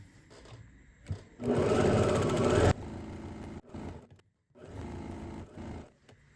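A sewing machine stitches a fabric bag handle in a steady, loud whirring burst of about a second and a half, set between quieter handling sounds and short pauses.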